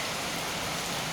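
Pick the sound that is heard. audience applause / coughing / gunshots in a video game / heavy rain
heavy rain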